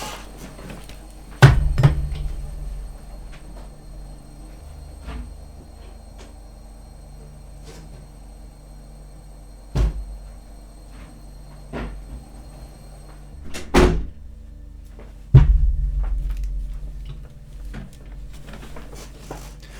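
A room door is shut during a live stream. Several sharp, separate thuds and knocks are spaced several seconds apart against a quiet background.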